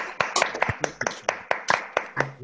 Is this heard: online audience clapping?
yes